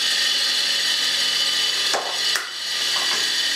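A homemade disc sander, its disc unbalanced and vibrating heavily, runs continuously with a loud, close, rough whirring drone, briefly dipping twice near the middle before resuming steadily.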